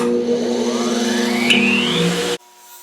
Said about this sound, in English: gonna use some aluminum compound, and we'll see how this comes.